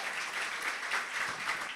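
A short, steady wash of applause from a live audience at a music performance, continuous, fairly even and held at a moderate level throughout.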